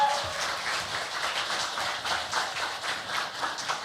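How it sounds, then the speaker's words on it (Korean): A church congregation claps after a cello hymn performance, giving a steady, fairly distant round of applause that holds evenly throughout. "소리 사모님께도 박수."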